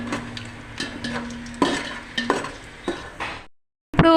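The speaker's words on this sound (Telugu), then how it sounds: "నేను వేస్తున్నాను ఇవి బాగా ఫ్రై అవ్వాలండి" Whole biryani spices fry in hot oil, a close sizzle punctuated by sharp spoon clinks and stirring scrapes against the pan, with a brief silence near the end.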